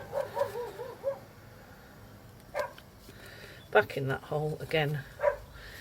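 A dog barks a few times in the background, fairly distant, while a person keeps talking over it.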